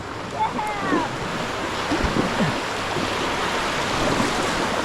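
Water rushes and roars continuously over a waterfall during river rafting, loud and close, with wind buffeting the microphone and brief high voices cutting through.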